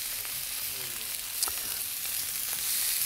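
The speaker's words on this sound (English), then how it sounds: "So you hear that sizzle straight away?" Lamb cutlets sizzle in a hot frying pan, a steady bright hiss of frying fat that runs continuously and fairly quiet, with a faint clink partway through and no talking.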